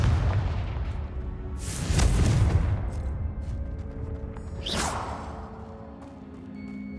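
A Confringo spell explosion in the Hogwarts Legacy video game: a whooshing boom with a heavy low rumble, then a second sharper burst, loud and close over a steady game backdrop.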